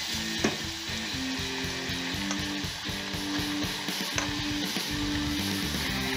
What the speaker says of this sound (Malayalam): ഇനി നമുക്ക് എണ്ണയിലോട്ടിട്ട് പൊരിച്ചെടുക്കാം.